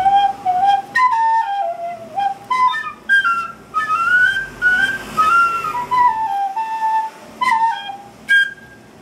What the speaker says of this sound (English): That's my my little mystery whistle.